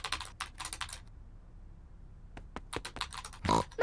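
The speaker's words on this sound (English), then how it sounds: "Peppa and George love to watch Mummy work on the computer." Rapid clusters of cartoon computer keyboard clicks, pausing briefly before another burst of typing, with a soft grunting sound at the end.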